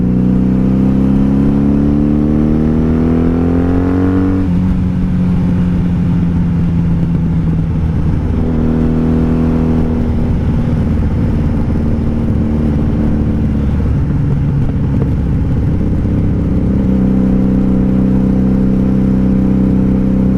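A 1997 Honda Magna VF750C motorcycle engine revs up steadily through a gear, drops on a shift, then drones and pulls again as it accelerates along a highway, loud and close with wind rumble and no talk.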